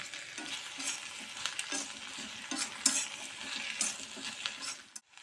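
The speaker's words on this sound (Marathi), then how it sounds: "वरती खाली परतून घ्यायची." Okra bhaji with onion stir-fried in oil, a soft continuous sizzle with a spatula repeatedly scraping and turning the vegetables in the pan, a few light metallic clinks near the end.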